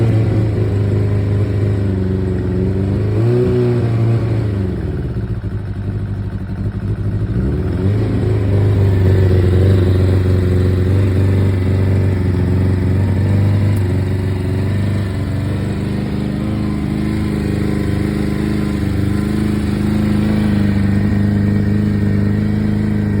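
A 1999 Suzuki Bandit motorcycle engine runs steadily on choke after a cold electric start, a close, loud low rumble that dips briefly and then holds a continuous idle with no talking.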